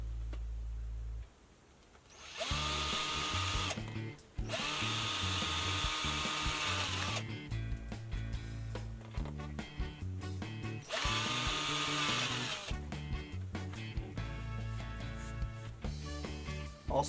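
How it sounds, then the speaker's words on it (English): Power drill with a 1/4 inch bit boring holes, two long bursts of loud high-speed whirring with brief pauses between, plus a shorter spin-up at the start, close and without talk. "And once again, we're using a 1/4 inch drill bit."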